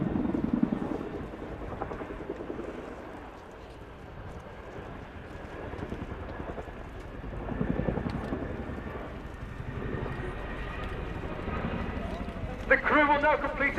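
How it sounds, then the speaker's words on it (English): A Boeing CH-47 Chinook HC2 of the Royal Air Force performs a flying display at an air show, its rotor throb a steady distant drone under a voice talking throughout. "The two-wheel taxi is a skill that's pretty unique to the Chinook"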